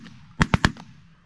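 Shotguns fire a quick volley of three loud, sharp blasts in rapid succession during a snow goose hunt outdoors, followed by a fainter fourth shot and a short echoing tail.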